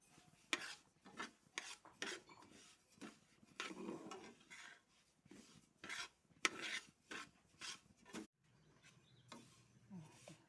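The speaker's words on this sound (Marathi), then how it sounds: "हे आता आपण तीळ भाजून घ्यायचे आहेत." Dry rattling and scraping of sesame seeds stirred as they roast in a pan over low heat, with repeated metallic rasps and short bursts at an uneven rhythm, close by.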